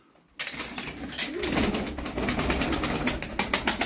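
Tumbler pigeons coo in soft repeated bursts, close and clear, with faint rustling after a brief quiet start.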